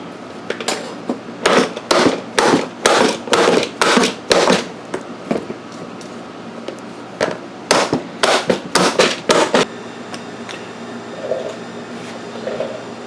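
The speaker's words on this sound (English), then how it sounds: "I think I'm going to get the body hammer and flatten that" Rapid bursts of sharp metallic body hammer blows flattening sheet metal on a 1994 Saab 9000 AC box, two clusters of quick strikes separated by a short pause, close and loud.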